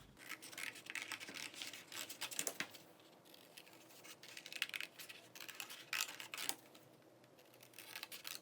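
Scissors cut out paper pieces for hair pin adornments in a string of soft, close, crisp snips and rustles, with no talking.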